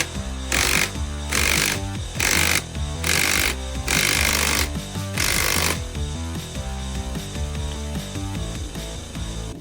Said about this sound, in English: Strut secured, and now I can carefully compress the spring.